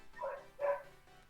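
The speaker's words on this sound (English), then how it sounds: "The dog." A dog barks twice in quick succession, fairly distinct against a quiet background with no talking.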